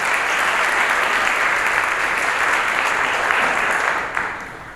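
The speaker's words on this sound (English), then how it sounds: "Would you give them a round of applause?" Applause from the audience at a middle school all-county chorus concert, loud, full and continuous, then tapering off in the final second.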